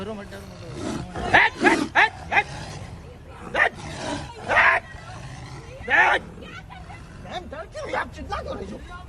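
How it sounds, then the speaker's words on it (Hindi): A tiger emerging from the jungle near Lansdowne, Uttarakhand, lets out several loud, rasping roars as it charges at passing vehicles, with excited tourist voices and chatter in between the bursts. "जंगल से अचानक बाघ निकला और आक्रामक हो गया और वहां से निकल रही गाड़ियों पर हमले की कोशिश करने लगा"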